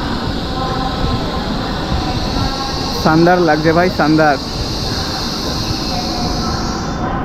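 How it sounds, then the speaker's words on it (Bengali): A steady hum and whirr of trains at the large Shanghai railway station where bullet trains stand at the platforms, with someone briefly speaking partway through over the constant background. "কত রেল দাঁড়িয়ে আছে।"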